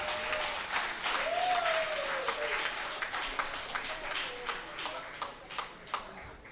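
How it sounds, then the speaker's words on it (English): A conference audience at a law week gathering gives themselves a round of applause, moderately loud scattered clapping that thins toward the end, with a brief tonal sweep early and some voices underneath. "So let's give ourselves a round of applause."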